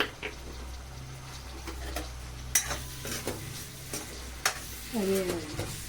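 Onions frying in a pan with repeated stirring scrapes and utensil knocks over a steady sizzle. Someone speaks briefly near the end.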